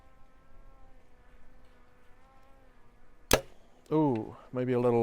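An arrow is released from a bow during outdoor archery practice: one sharp, close snap with its quick flight, followed by someone talking after the shot.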